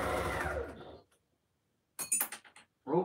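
A sewing machine with a thread cutter stitches through layers of a fabric flying geese basket in a one-second burst. After a pause come several short runs, with faint clinks nearby.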